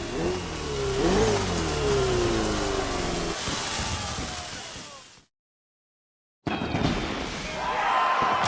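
A Ferrari race car engine revs hard in a racing video game, loud and close, rising and falling through gear changes before cutting to a brief silence, then roaring back.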